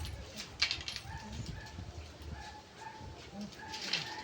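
Faint bird calls, soft and cooing, repeat a few times over a quiet outdoor background murmur.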